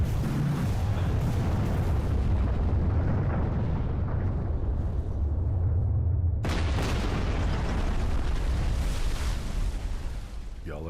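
Buildings in New Mombasa collapse under explosions in a Halo 3 mod, a loud continuous roar of blasts and rumbling debris that cuts in sharply again with a fresh crashing burst, no talking.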